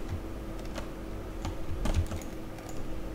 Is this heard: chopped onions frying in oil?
no